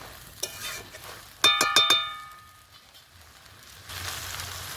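Goat intestine gravy (khasir bhuri) stir-fried after water is added, with a burst of four sharp metallic clangs from the spatula on the pan, then a low, steady sizzle.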